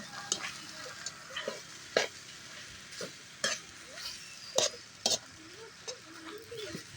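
Ginataang papaya simmering in coconut milk in a pan is stirred now and then: repeated spoon scrapes and clacks over a low bubbling sizzle, close and moderately loud, with no talking.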